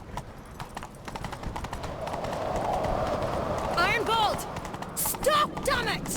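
Horse hooves clip-clopping at a gallop during a chase in the video game The Witcher 3, a steady rhythmic beat under game music and a shouted voice.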